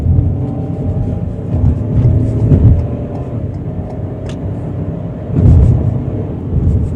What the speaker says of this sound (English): this is a 3-cylinder engine, so they don't always sound the best